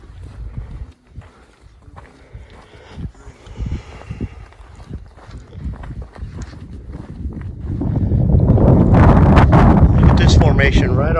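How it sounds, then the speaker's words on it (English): Wind gusts on an outdoor trail near Amarillo, Texas, buffeting the microphone in rumbling bursts that grow to a loud, steady roar in the final seconds, with faint footsteps and a voice earlier. "It's windy."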